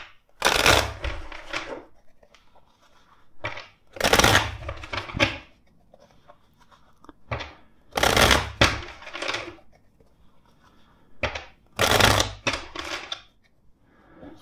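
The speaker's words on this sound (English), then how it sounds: "Let's shuffle the deck four times." A deck of tarot cards shuffled four times, each a crisp burst of riffling and flicking followed by a short quiet pause, close and clear.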